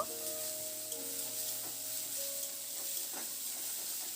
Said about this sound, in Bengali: এখানে কুচনো পেঁয়াজ দিয়ে দিয়েছি একটা মিডিয়াম সাইজের এবার পেঁয়াজটা দিয়ে মিনিট দুয়েক মতো একটু নাড়াচাড়া করে নেব